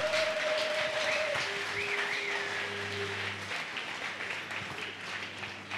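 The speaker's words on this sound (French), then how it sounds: "Acclamez, s'il vous plaît." Audience applause fills a general assembly hall in Kinshasa, a steady, dense wash of clapping from a crowd that holds at an even level throughout, with a few tonal hums and faint voices underneath.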